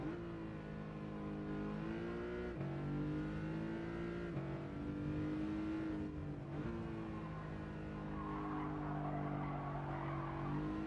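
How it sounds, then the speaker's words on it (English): Tires squeal in a racing simulator played on a Fanatec DD1 direct-drive wheel, layered over a continuous droning engine note that shifts pitch as the car slides, with the squeal growing sharper toward the end. "Oh, them squealing tires."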